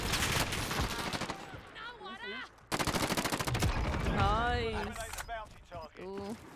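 Gunfire in a shooting video game: rapid bursts of shots crackle in two volleys, with players talking and exclaiming over the shooting.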